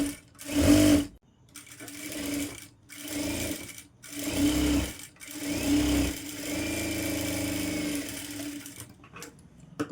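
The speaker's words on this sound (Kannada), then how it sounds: "ಇವಾಗ ಈ ಕಡೆ ಸ್ಟಿಚ್ ಮಾಡೋಣ" A domestic sewing machine stitching a designer back-neck blouse runs in several loud, close bursts of steady whirring, separated by short pauses and ending in a longer continuous run.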